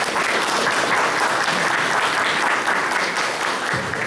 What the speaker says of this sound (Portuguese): quero receber uma salva de palmas